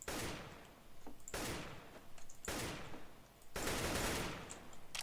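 Rifle fire in Counter-Strike: Global Offensive, four separate bursts of rapid shots, each with a short tail, set a little apart in a steady rhythm.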